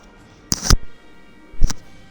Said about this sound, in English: that sound you heard, it sounds like I got something rare